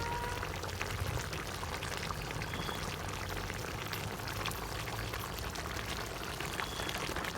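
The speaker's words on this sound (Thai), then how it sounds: "นี่จะตักปลาชิ้นใหญ่ๆให้ดูนะคะ" A ladle scoops a catfish curry made with coconut milk and pheka pods from a pot, making a steady wet sloshing and bubbling that runs close and constant throughout.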